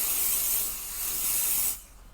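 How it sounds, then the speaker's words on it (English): Pixie spray misted from a can over a craft stencil, a close steady hiss lasting under two seconds that dips briefly midway, then cuts off. "I will spray a light dusting of that pixie spray over top of my stencil"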